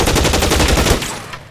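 Rapid machine-gun fire in the video game L.A. Noire, a loud continuous burst of closely spaced shots lasting about a second before tapering into a fading tail.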